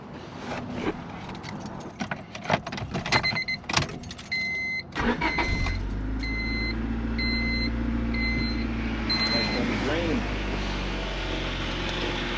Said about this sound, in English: So I'm gonna fire this thing up and take it for a ride.